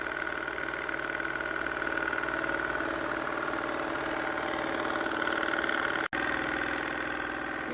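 A small flame-heated engine drives a flywheel, giving a steady mid-pitched running hum with a faint knocking pulse. It continues evenly for most of the stretch, with a short dropout near the end.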